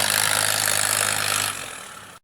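A Yanmar 39-horsepower farm tractor engine runs at a steady idle, a close, even droning chug that drops in level partway through before cutting off abruptly.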